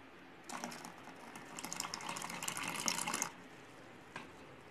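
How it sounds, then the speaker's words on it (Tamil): Water is poured into a grinder jar while juice is being made: a splashing, rushing pour about three seconds long, close and fairly loud, then quiet with one small knock. "இந்த ஸ்டேஜில் நம்ம கொஞ்சம் தண்ணி ஆட் பண்ணிக்கலாம்."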